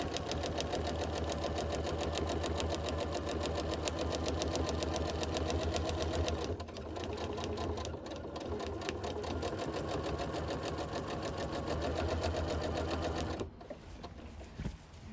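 Sewing machine fitted with a walking foot runs steadily while stitching a long cross-hatch quilting line, a fast even mechanical whir and clatter that pauses briefly partway and stops near the end.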